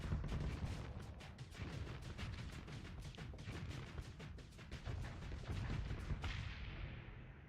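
Rapid barrage of missiles launched from a distant destroyer in the Starsector space game, a dense run of sharp repeated bursts over a continuous low rumble, steady and loud throughout before tailing off near the end.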